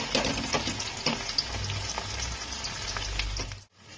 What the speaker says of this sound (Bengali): তেলটা গরম হয়ে গেছে, এবার আমি এর মধ্যে পেঁয়াজ কুচিগুলোকে দিয়ে দিচ্ছি। পেঁয়াজগুলোকে আমি ভালো করে ভেজে নেব।